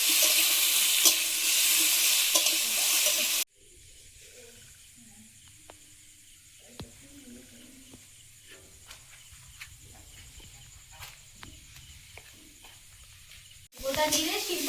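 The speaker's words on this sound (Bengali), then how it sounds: "আর এখন চিচিঙ্গা দিয়ে আর একটু ভেজে নেব।" Snake gourd and potatoes fry in a pan, the sizzle loud and close for a few seconds, then dropping to a quiet hiss with faint clinks and a low voice before the loud frying returns at the end.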